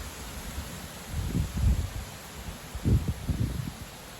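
A strong gust of wind on 3 September 2025, buffeting the microphone in low rumbling bursts over a steady background hiss, with two stronger surges a second or so apart.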